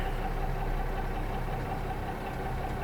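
An International Harvester winch truck's engine idles steadily, a continuous low rumble with a faint knocking texture holding at an even level throughout, no voices present.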